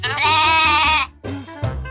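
A goat bleats loudly in one long wavering call, followed by a shorter bleat and a brief thump, close and clear in a children's fable narration.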